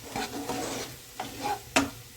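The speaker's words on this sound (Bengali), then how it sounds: "লঙ্কা গুঁড়ো 1 চামচ, হলুদ গুঁড়ো 1 চামচ, নুন 1 চামচ দিয়ে দিলাম। নাড়াচাড়া করে নিচ্ছি।" Spices being stirred into onion, ginger, garlic and tomato frying in oil for a Bengali fish curry: several short scraping stirs at an uneven rhythm over a soft sizzle, close by with no talking.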